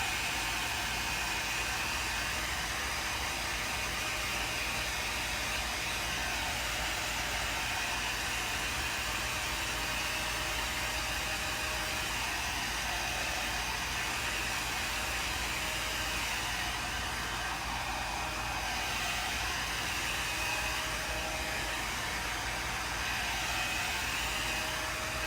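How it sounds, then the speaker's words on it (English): A hair dryer blows a steady, loud, unbroken whoosh close by for the whole stretch, drying a fall-themed painting, with no talking over it. "it's time for the dryer"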